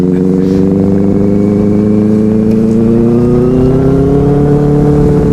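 Motorcycle and car engines rev and accelerate on a road nearby, a steady loud drone with rising tones as riders race alongside a Benelli 600i, no one talking.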